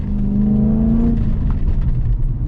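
BMW E30 engine revving hard during a drift, a loud steady droning note that climbs and then drops as a gear is shifted, followed by a lower rumbling run close by.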